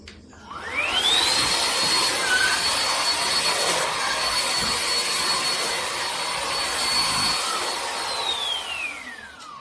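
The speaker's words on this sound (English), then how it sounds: "I'm testing this new Hoover ONEPWR Blade Cordless Vacuum." A Hoover ONEPWR Blade cordless vacuum cleaner whirs up to speed, runs with a steady high-pitched whine for several seconds, then spins down.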